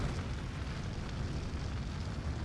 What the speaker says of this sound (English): Power surge caused a catastrophic explosion, and it's burning.